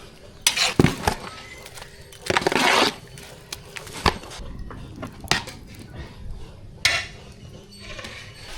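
A spoon scraping and clinking against a metal pot while a spiced rice mixture with asafoetida is stirred, in irregular bursts of scraping and knocks over a steady low background, close and fairly loud, with no talking.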